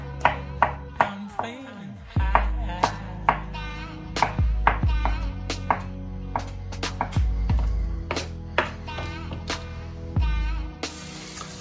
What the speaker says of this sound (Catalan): Els Frankfurt, tallar-los amb rodanxes.